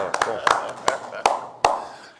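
A few people at a press conference give sparse, scattered claps, around half a dozen sharp hand claps at uneven intervals, close and fairly loud.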